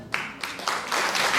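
Audience applause at a Lemko culture gathering in Gorzów Wielkopolski, building over a second and a half into dense clapping, with a faint voice underneath.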